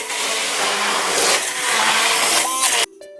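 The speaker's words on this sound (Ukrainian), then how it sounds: "Я маю ось такий чудовий насадковий блендер." Immersion hand blender chopping eggplant, mushrooms and tomatoes, whirring loudly in bursts with shifting pitch as it works through the vegetables, then cutting off abruptly near the end.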